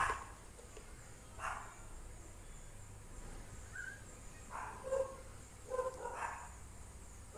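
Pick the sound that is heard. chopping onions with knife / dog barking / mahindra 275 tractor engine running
dog barking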